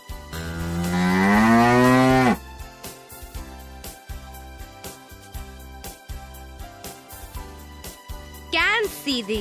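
A cow gives one long, loud, deep moo lasting about two seconds, then quieter rhythmic clopping and jingling sounds follow, with a brief higher call near the end.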